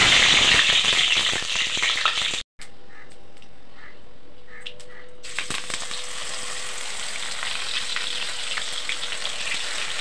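Fish frying in hot oil gives a dense, steady sizzle and crackle throughout, with a brief dropout and a quieter, softer stretch near the middle before the full hiss returns.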